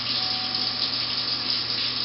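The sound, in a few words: water running from a tap for hand washing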